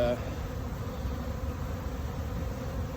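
Steady, dense buzzing of many honeybees close by at a California hive, a continuous droning hum with no voices.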